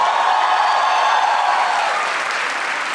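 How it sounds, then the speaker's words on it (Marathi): Dense, sustained applause from a stand-up comedy audience fills the whole stretch at full strength. It eases only slightly toward the end, and there is no talk over it. "एकदा जोरदार टाळ्या वाजवा बियुनिकसाठी"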